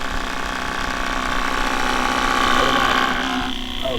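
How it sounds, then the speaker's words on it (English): Pre-filter of a portable water filter rattling during a field test: a continuous fast mechanical buzzing rattle with an engine-like drone, close and fairly loud, steady throughout. "that's my little pre-filter is rattling"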